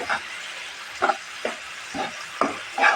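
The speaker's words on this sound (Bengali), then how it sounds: "এখন আমি মশলাটা কষিয়ে নেব" Spice paste being sautéed in a pan for a quail egg and potato bhuna, with a steady close sizzle and hiss broken by several soft scraping stirs at uneven intervals, and no talking.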